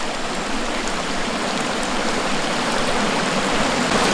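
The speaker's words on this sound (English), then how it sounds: "Get those vegetables sauteed up." Onion, red pepper, corn and mushrooms sauté on an iKamper Disco Series camp cooktop, giving a steady, loud, dense hiss of sizzling that holds evenly throughout with no voices.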